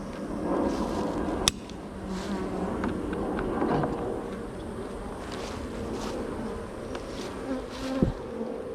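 Honey bees buzzing thickly around an open hive, a constant close swarm hum with individual bees droning past and a couple of sharp knocks from the hive equipment.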